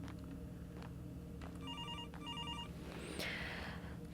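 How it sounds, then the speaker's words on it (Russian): Telephone ringing in the horror video game Graveyard Shift: two bursts of a repeating electronic trill over a steady low hum, followed by a brief higher chirp, with no talking. "Так, кто-то мне звонит."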